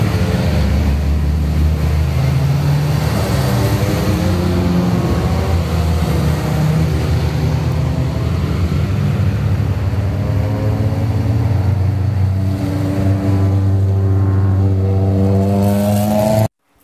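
A Honda S2000 drives around Sugo circuit, its engine droning loud and steady for several seconds, the pitch sweeping and shifting through gear changes as it passes close, then cutting off abruptly at the end.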